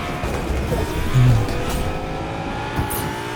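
A car driven in the video game Fortnite, its steady engine drone sustained throughout with a brief swell partway, close and fairly loud.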